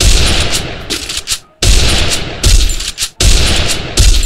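Loud bursts of MP40 submachine gun fire in Free Fire, landing headshots, in three dense volleys separated by brief gaps, close and alone with no talk.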